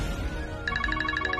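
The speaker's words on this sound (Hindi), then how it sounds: "बिज्जू का फोन है, बात कर लेते हैं उससे" A telephone ringtone starts partway through, a steady repeating electronic ring over low background noise in a domestic scene.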